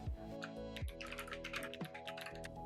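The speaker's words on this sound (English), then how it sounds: "I wanted my blue clicky keys. And this is clicky." Fast typing on a clicky mechanical keyboard with blue switches, crisp rapid keystrokes close up over a low steady hum.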